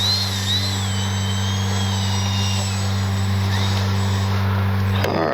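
A Flightline OV-10 Bronco RC model plane drones with a loud, steady tonal engine hum and whine, pitch wavering slightly, before a sharp knock near the end.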